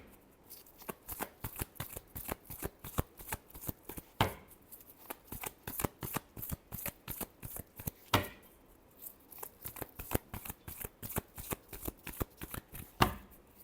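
Tarot cards shuffled by hand in quick, rapid bursts of crisp riffling clicks, close and steady over about fourteen seconds, with a few brief louder snaps and no talking.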